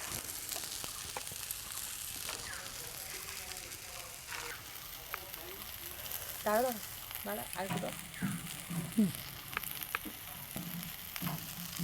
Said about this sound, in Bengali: এইভাবে ঢাকা দিয়ে দিয়ে ভেজে নিতে হবে। দেখুন, ফুলকপিটা এবার ভাজা হয়ে গেছে।